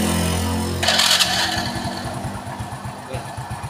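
An Astrea Grand motorcycle fitted with a Shogun CDI and Revo carburetor starts up with a brief burst, then settles into a steady, close, rhythmic low idle putter.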